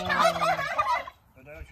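Turkeys gobble loudly and close by in a burst of rapid, bubbling calls, followed by a quieter second gobble after a short pause.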